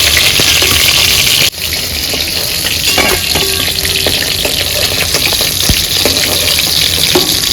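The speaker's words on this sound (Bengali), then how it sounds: "তেলটার মধ্যেই আমি ফুলকপিগুলো ভেজে নিচ্ছি" Cauliflower florets frying in hot oil, giving a loud, steady sizzle and crackle with a few clinks of stirring, heard close and alone without talk.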